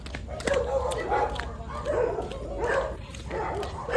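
Several dogs bark and yip in overlapping bursts at a middling distance, with voices chattering alongside them.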